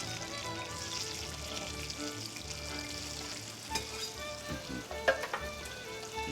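Onions fry in hot oil, sizzling continuously and crackling, with occasional clinks and scrapes of stirring heard close up and no voices.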